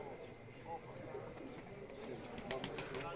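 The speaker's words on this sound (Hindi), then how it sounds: "तो दोस्तों दूसरा एक कबूतर मैं आपको दिखा रहा हूँ" A pigeon at a rural Gujrat dera coos faintly under nearby talking, with soft low murmuring calls against quiet background noise.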